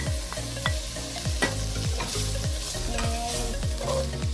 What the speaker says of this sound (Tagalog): Okay, next step, let's add the spam.